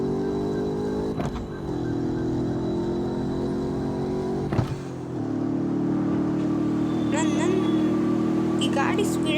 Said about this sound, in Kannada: ನಂಗೆ ಈ ಗಾಡಿ ಸೌಂಡ್ ಇಷ್ಟ ತುಂಬ.